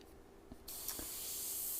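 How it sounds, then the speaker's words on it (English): Spray paint hisses in short bursts onto the edge of a painted figure, with a brief faint puff before a steady, close spray that runs on to the end. "spray right on the edge that you want to shade"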